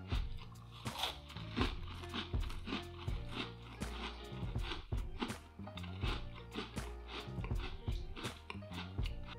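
Repeated crisp crunches and bites, irregular and close up, as someone chews through thin, crunchy cookies with steady mouth noises between bites.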